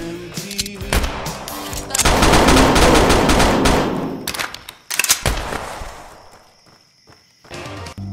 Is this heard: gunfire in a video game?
yes